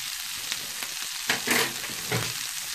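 Rice and peppers get stirred in a frying pan with spices added, a soft continuous sizzle broken by several scraping, rustling strokes of the spoon, close by and fairly quiet, with no talking.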